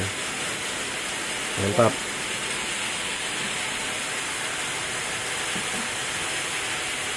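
Large climbing perch frying in hot oil, a steady broad sizzling hiss that runs the whole time, with a brief spoken word near the start.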